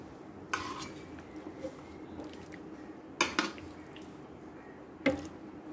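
Chopped jackfruit pieces drop into a mixer jar a little at a time, giving a few soft clunks and taps against the jar in a quiet kitchen.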